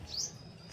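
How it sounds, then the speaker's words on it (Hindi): A small red bird at a house gives one brief, high chirp, faint and somewhat distant, over quiet background noise. "ये देखो ये चिड़िया है लाल"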